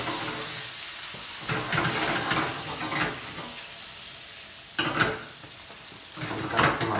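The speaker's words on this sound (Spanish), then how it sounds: "Vamos a echar los camarones, ya están limpios." Cleaned shrimp fry in a hot pan with a steady sizzling hiss, broken by louder bursts of stirring and scraping of a utensil against the pan.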